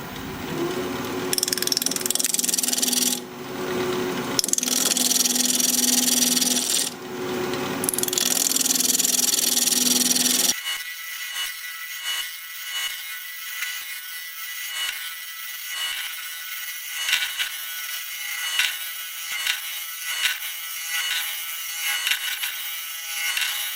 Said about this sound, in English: We're going to be turning at 1200 RPM, 5/8 inch bowl gouge